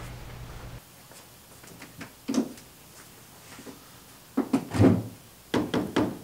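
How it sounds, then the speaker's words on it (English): A door is worked open with a few dull thunks and knocks, scattered irregular bumps and a louder cluster of handling knocks near the end, no talking. "Door's open."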